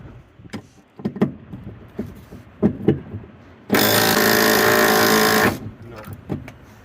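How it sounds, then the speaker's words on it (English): A pneumatic impact wrench hammers loose bolts on an old Ford truck cab in a loud, steady burst of nearly two seconds, set between shorter clanks and bangs of shop work. "Impact wrench it."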